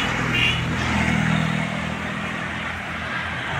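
Mixed traffic streams past on a highway near Haldaur, a continuous, fairly loud engine and tire rumble with vehicles droning by steadily and no clear pauses.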